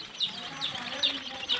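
Young chicks peep in a brooder under two bulbs, a few repeated high chirps at an even pace over a low background hum, close by.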